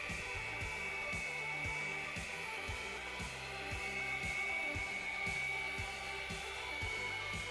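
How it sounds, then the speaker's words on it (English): A rotary polisher spins heavy-cut compound on dark boat gelcoat, giving a steady high whine with a rhythmic low thumping pulse that repeats through the whole pass, close and continuous with no talking. "Let the compound do what it's supposed to do when it's on a spinning wheel."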